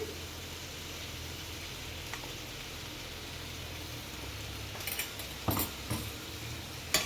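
Spice powder is stirred into frying paneer pepper dry, with a soft constant sizzle in the pan. A spoon scrapes and clinks against the metal a few times toward the end, and the sound stays quiet throughout.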